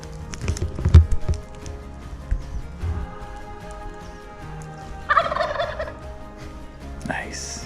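A wild turkey gobbling outdoors: a fast rattling gobble rising mid-clip, moderately close, over a background of footsteps, knocks and light rustling.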